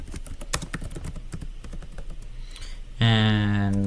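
Computer keyboard keys clatter in quick, uneven bursts, then the enter key is pressed and a bright electronic tone begins, with no talking.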